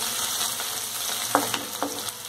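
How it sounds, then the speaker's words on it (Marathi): Coriander sizzles in hot oil as the tempering for a green French beans thecha, a steady frying hiss broken by a few sharp pops and spoon clicks, close up with no talking. "हे बघा मस्त फोडणी बसली"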